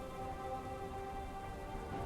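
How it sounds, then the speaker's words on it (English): Steady rainfall in the Halo 3 video game at the edge of an evaporated lake bed under a darkening sky, a soft, even hiss of drops pattering continuously, fairly quiet and without voices. "we can see the sky darken and feel the rain begin to fall around us"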